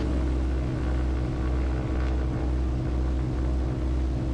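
Steady, close drone of a multi-engine piston airplane's engines running at high power during a magneto check on the ground, with a regular pulsing throb and no talk.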